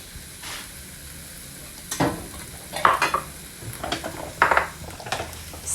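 Fish, eggs and chili being stirred as they fry in a pan for Indonesian nasi goreng: a steady sizzle under a run of sharp scraping stirs and clinks, loudest near the middle and end.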